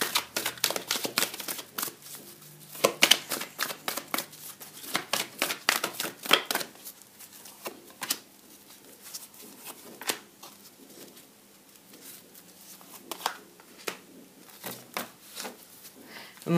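Tarot cards are shuffled and drawn, giving bursts of crisp flicks and snaps that thin into scattered soft taps and card slaps, close by and with no talking.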